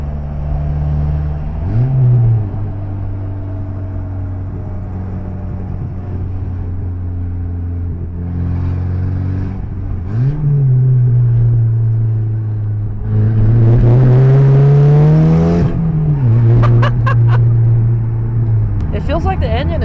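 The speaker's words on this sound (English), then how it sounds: "it's actually not that bad until you accelerate, and then it gets really loud" Mitsubishi Galant VR4 fitted with a new downpipe, its engine droning steadily then swelling into loud acceleration runs, close and continuous, with a voice talking over it.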